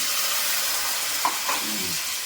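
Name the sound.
water added to frying spice paste (masala), sizzling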